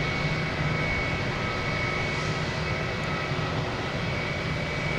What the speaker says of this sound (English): That JetBlue making all the racket coming in here